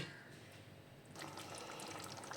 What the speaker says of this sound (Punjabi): ਅਸੀਂ ਇਹਦੇ ਵਿੱਚ ਥੋੜਾ ਜਿਹਾ ਪਾਣੀ ਪਾ ਦਿੱਤਾ ਗਰਮ